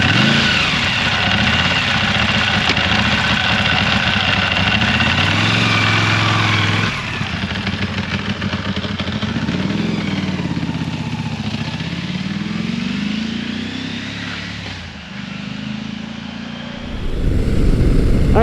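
A Motus MSTR motorcycle with a 1650cc V-4 engine is ridden, its loud engine note rising and falling through gear changes and throttle shifts, with steady wind rush over the whole ride and a brief dip near the end.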